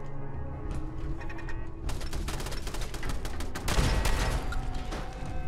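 Fallout 4 turret gunfire hits ghouls, starting as a few sharp shots and building into a rapid, loud rattle with a heavier burst near the end; no talk over it.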